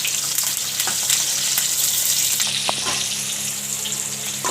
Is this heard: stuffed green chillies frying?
yes